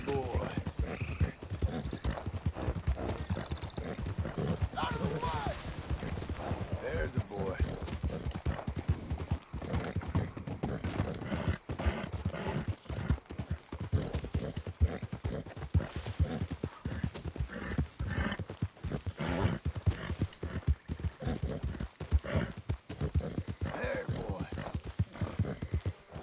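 Steady clip-clop of horse hooves walking at an even pace in Red Dead Redemption 2 over a constant background, with a person talking throughout.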